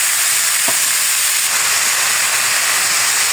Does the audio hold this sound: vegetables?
yes